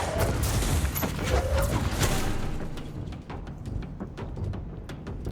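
Dense volleys of gunfire and booming impacts from a combat sequence in the video game Control, loud and continuous at first, then thinning into scattered sharp shots.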